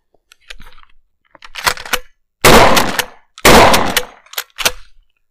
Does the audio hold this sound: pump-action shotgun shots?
yes